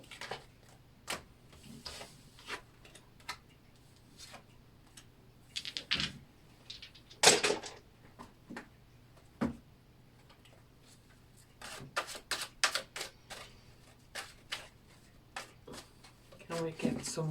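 Tarot cards are drawn and shuffled for a reading about Norway, with soft scattered rubs, taps and card snaps at close range, one louder flurry near the middle, while a person talks over much of it.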